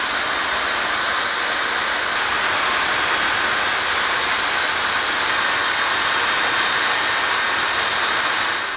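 A Dyson Supersonic hair dryer blows air with a loud, steady broadband rush that holds constant from start to finish, close to the microphone, with no voices.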